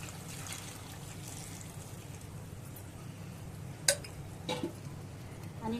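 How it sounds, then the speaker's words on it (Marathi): Hot water is poured into a pot of cooking chicken for Kolhapuri tambda rassa: a soft, steady trickle and pour at close range, with a couple of light metallic clinks partway through. "आता ह्याच्यामध्ये पाणी टाकायचं गरम पाणी टाकायचं"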